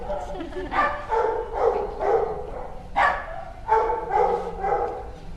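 Several dogs bark loudly and repeatedly in an animal shelter play yard area, with rapid overlapping bursts close by and a voice talking underneath.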